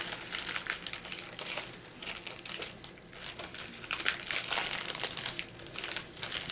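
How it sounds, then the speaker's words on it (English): Mail package being cut open, with close, continuous crinkling and crackling of plastic or paper wrapping, irregular bursts rising and falling throughout. "Well, let me just cut this open."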